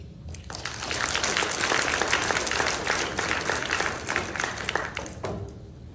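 Sustained audience applause at a graduate student awards ceremony honoring a student award winner, a dense steady clapping that swells and holds for several seconds before tapering off near the end.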